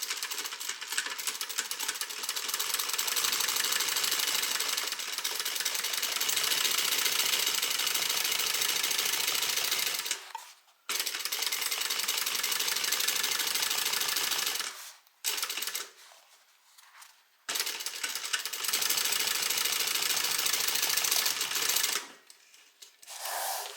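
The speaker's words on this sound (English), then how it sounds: "Now the bottom needs to be stitched at a 1/4 inch seam allowance." A sewing machine stitches the bottom seam of a fabric evening bag at a quarter-inch seam allowance, a loud, steady, close whirring run that stops briefly several times and then restarts.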